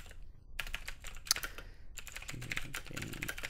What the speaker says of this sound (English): So I'm just gonna type some random message developed by developer.